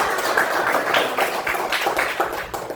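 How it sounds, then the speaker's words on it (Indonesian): A classroom of students claps hands together in a brisk, loud, rhythmic pattern of repeated bursts, lasting the whole moment with little talk. "Tepuk tangan dulu buat kita semua."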